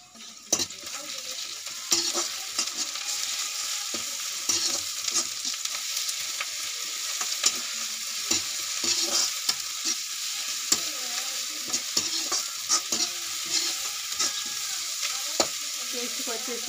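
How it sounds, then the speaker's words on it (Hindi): Masala paste for a pea curry fries and sizzles in a pan, with steady crackling and repeated stirring scrapes throughout, close and moderately loud, with no talk. "तो अब मैं इसमें डालूंगी पेस्ट,"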